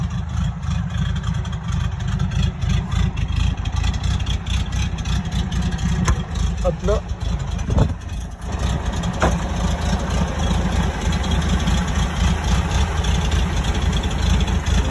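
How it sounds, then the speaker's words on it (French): A 1972 Volkswagen Combi T2 Westfalia camper van's air-cooled engine idling steadily, a low, even rumble close by that carries throughout, with a brief dip near the middle and a short spoken interjection. "Alors, le petit bruit du moteur."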